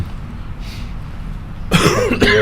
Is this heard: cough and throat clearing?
yes